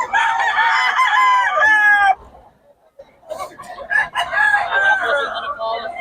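Rooster crowing loudly and chickens clucking at a Bocaue market, a long crow followed by a brief pause then more crowing and clucks close by, with faint voices in the background.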